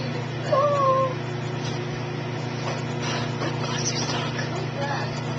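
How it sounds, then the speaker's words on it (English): A pet cat meows twice early on, a short rising-falling call close to the mic, heard over a steady low appliance hum and background room noise, with a person talking nearby. "My cat. I'm not feeding you!"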